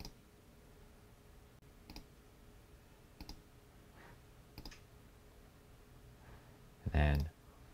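Computer mouse clicks during a software install come as a few faint, isolated ticks spaced about a second apart in a quiet room, ending with a louder, brief thump.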